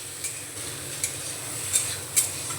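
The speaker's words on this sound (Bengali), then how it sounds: "লো টু মিডিয়ামে রেখে আমি উচ্ছেগুলো একটু হালকা করে ভেজে নেব।" Bitter gourd frying gently in a pan over a low-to-medium gas flame, a soft steady sizzle with a few light clinks of a utensil stirring, close and quiet with no voices.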